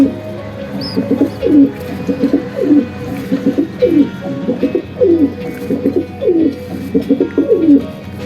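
Pigeons feeding their chicks coo steadily in low, throaty repeated phrases, close by and continuous, with no talking.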